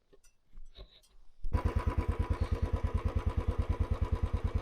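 Motorcycle engine idling steadily after starting up, a fast even thumping pulse that is loud and close, stopped on a mountain road in Uttarakhand during winter travel after a long ride; brief speech and rustling come before it.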